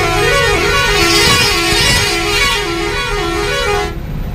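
A loaded truck on a long-haul highway run from Nashik to Delhi sounds its horn in a long, loud, continuous wavering blare that dominates the whole stretch before cutting off near the end.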